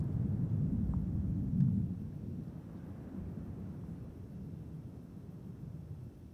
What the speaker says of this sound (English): a sonic boom felt throughout the Kennedy Space Center and Cape Canaveral Air Force Station area as Falcon 9 first stage landing legs deploy